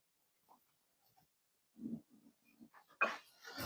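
Several dogs come running into a home kitchen, a scatter of quiet paw taps and small snuffling, whining sounds building toward the end, with no talk over them.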